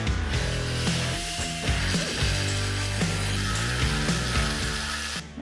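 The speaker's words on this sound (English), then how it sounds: "We're just gonna basically cut it out on the backside and follow in the chalk mark." A power tool cuts through the steel frame of an older Chevy short-bed truck along a chalk line while notching it, a loud continuous grinding whine with shifting pitch that runs throughout.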